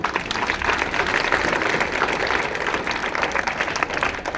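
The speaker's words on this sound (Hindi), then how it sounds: "नीलू मैम के लिए एक बार फिर से जोरदार ताली बजाइए।" Loud, sustained applause from an audience greeting a motivational speaker, a dense steady wash of clapping with no pauses that keeps going from start to finish.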